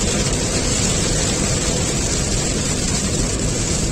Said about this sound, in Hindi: और तेज बारिश शुरू हो चुकी है।